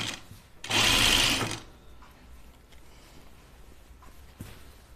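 A sewing machine runs in one loud, steady burst of stitching on a Grainline Studio Willow tank dress, lasting under a second, with quiet room tone before and after.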